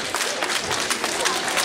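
A festival gala-concert audience applauds on stage cue, a steady dense wash of clapping from a large crowd, moderately loud and continuous throughout.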